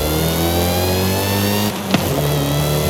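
Supercharger whine from a Toyota MR2 in Forza Horizon 5, a steady high-pitched whine layered over a loud, sustained engine drone, with a brief dip and sharp transient near the end before the engine note resumes.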